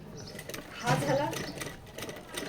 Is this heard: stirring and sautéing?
no